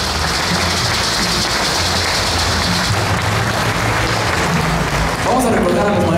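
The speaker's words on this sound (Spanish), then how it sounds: "Fuerte el aplauso para nuestra Virgen" An outdoor crowd at an evening serenade for the Virgen de la Soledad in Nopalucan, Puebla, applauds in a dense, steady roar of clapping, and a brass band begins to play over it near the end.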